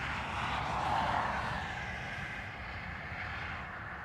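Airliners, including an Aer Lingus A330 and a Delta 767, taxi at Dublin Airport, producing a faint, distant, steady jet engine hum that rises slightly and then evens out.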